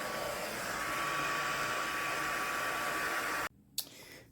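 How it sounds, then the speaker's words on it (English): A hair dryer blows steady, loud airy noise as it dries a dyed paper doll, then shuts off, leaving a brief quiet with a small handling sound. "So I'm going to take a dryer and let this dry."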